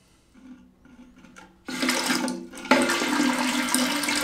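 Water rushes into a toilet cistern as the supply is opened after a float valve is replaced. It starts as a faint trickle, then turns into a loud, steady hissing fill that swells again partway through, with no talking.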